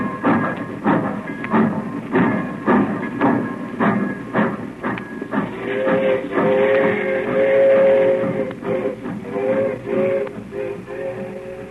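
A train pulling away: loud rhythmic clatter of wheels over rail joints that gives way to a steady rumble and a whistle-like tone.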